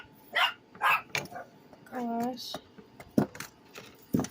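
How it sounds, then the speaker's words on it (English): Several dogs bark in short bursts in a home, with a whimpering, whining cry in the middle; someone speaks briefly between the barks, along with a few clicks and jangles nearby. "Please excuse my dogs."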